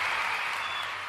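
Audience clapping in a broad, steady wash of applause, moderately loud and sustained through the short moment, with no voices over it.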